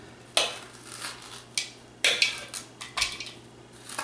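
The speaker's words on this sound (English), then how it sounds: "we're just going to take our bowl and clean out the seeds, and you want to scrape it down pretty close" A spoon scrapes pumpkin seeds out of a bowl, a run of sharp scrapes and clinks in an irregular rhythm, close and fairly quiet.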